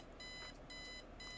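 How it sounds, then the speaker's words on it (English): An alarm clock in the adventure game Kathy Rain beeps in three short bursts of rapid high-pitched tones, quiet and evenly spaced. "Turn off the alarm clock"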